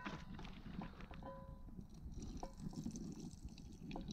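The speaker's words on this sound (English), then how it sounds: "we don't need all this bacon grease, so I'm gonna pour some of this off" Bacon grease poured off a camping pan gives a soft, continuous liquid trickle with faint drips, quiet and close, running steadily for several seconds without speech.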